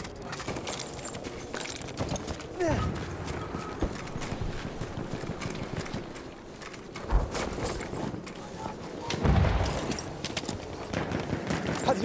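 Galloping hooves of a mounted enemy in the Battlefield 1 game, a rhythmic clip-clop amid busy battlefield noise with scattered gunfire and thumps, under someone talking.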